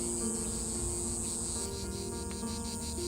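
A continuous, shrill drone of cicadas fills the air, steady and loud throughout, with a high buzzing tone that shifts slightly partway through.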